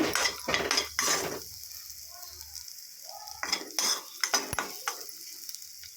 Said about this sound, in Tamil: நெய்யில் நல்லா ஃப்ரை ஆயிடுச்சு